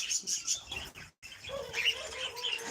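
A pet bird at a hobby bird farm chirps in quick, bright bursts close by, with a brief gap in the middle before the tweeting resumes.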